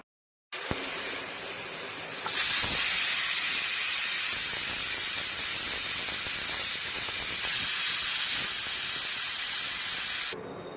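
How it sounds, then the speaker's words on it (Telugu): A pressure cooker cooking mutton curry hisses steam loudly and continuously for several seconds, with a bright whistling rush that surges and holds before cutting off. "ఇందులో మూత పెట్టేసేసి ఒక 8 to 10 విజిల్స్ వచ్చేదాకా పెడదాం"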